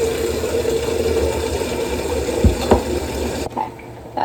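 Cold water runs steadily into ground coffee in a home kitchen, a close continuous pouring wash with a couple of small splashes near the end.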